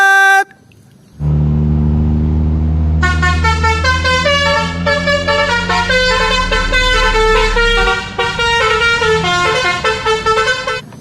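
A toy bus plays a loud, close telolet horn tune: a long run of rapid, bright musical toots after a brief opening beep, continuing for several seconds.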